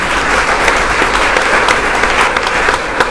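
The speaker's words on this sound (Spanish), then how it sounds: "Primero, un aplauso para los dos porque lo hicieron muy bien." Loud, steady applause from a contest audience cheering two contestants, a dense wash of many hands clapping continuously from start to finish with no talk over it.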